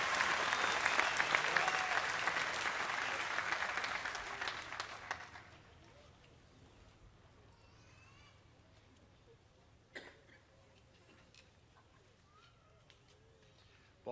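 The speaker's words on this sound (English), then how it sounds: "Let's give our student leaders a round of applause." Audience at a university undergraduate commencement applauds student leaders, a loud sustained wash of clapping that fades after about five seconds into quiet hall ambience with a faint knock.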